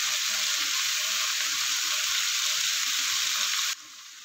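Squid sizzling and frying in a hot pan for Filipino adobo with coconut milk, a steady loud crackling hiss that runs unbroken before dropping off abruptly near the end.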